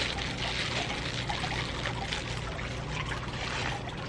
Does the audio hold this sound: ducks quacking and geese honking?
no